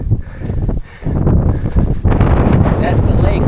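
Strong gusting wind buffets the microphone beside upper Tama Lake on an exposed hiking track in Tongariro National Park, a loud roaring rumble that rises and dips, with a brief lull near the start and someone talking through it.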